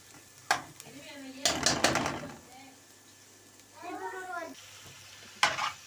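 Chopped garlic and onions sizzle and frying in a pan, with occasional stirring clatter and someone speaking over the cooking at intervals.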